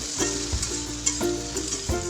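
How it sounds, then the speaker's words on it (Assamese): Okra (lady finger) frying in a pan with salt for a masala dish, a steady close sizzle broken by several scraping stirs of the spatula at irregular intervals, with no voices. "এতিয়া ভালদৰে এইখিনি ভাজি ল'ম।"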